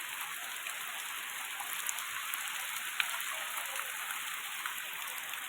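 Heavy rain falls steadily outside a house, a continuous even hiss of drops on surfaces with a faint tap or two, no voices.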